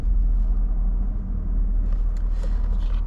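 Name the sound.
manual car engine as the clutch is let out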